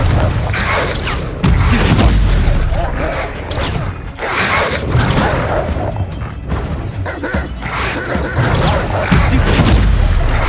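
Confringo fire spell blasts in the Hogwarts Legacy video game, loud booming explosions with thuds landing in bursts over a dense, continuous battle din, alongside Protego and Defindo spell effects.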